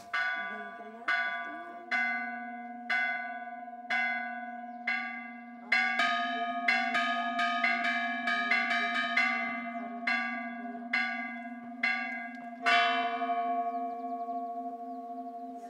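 Church bells in Peru ring out clearly, struck one at a time about once a second with long humming decays, then several bells sound together in fuller rhythmic clusters before a final bright strike rings out alone.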